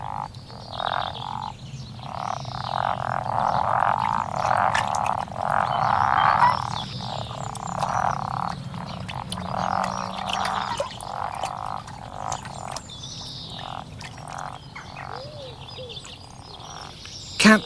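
A chorus of frogs croaking in repeated bursts while spawning in early spring in southern England, steady and fairly close, with faint bird calls in the background.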